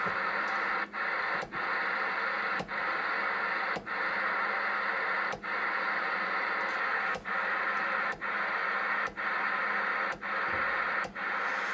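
Steady hissing CB radio static from a Uniden PC122XL SSB set, broken by brief regular clicks and dropouts as channels are stepped through one after another.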